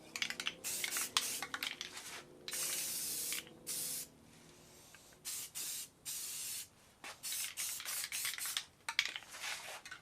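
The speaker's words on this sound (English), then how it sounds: "Got to be sprayed up and down." An aerosol can of plastic-bonding paint sprays onto a car dashboard with a broken straw, in repeated loud bursts of hiss broken by short pauses, with no talking.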